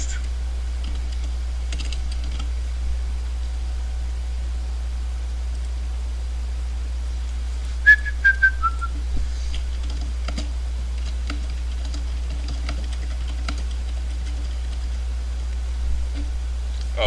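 Computer keyboard typing heard faintly and intermittently, a few sparse clicks over steady background hum while someone looks up a game's review scores.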